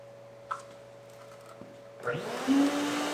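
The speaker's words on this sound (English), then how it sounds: "I'm gonna get a vacuum in here and get all this cleaned out." A vacuum cleaner starts up inside a Lincoln portable welder generator, cleaning out its brush and wiring area: a steady hum, then a rising motor whine that swells loud and holds, with a faint click early on.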